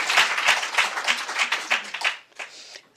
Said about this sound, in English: give yourselves a big round of applause for this event